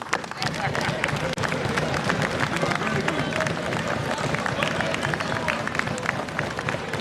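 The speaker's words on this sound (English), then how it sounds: "Clap for them." An audience applauding: a dense wash of clapping from a crowd, steady and sustained, with a babble of voices mixed in, at moderate level throughout.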